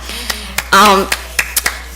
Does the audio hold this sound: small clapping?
yes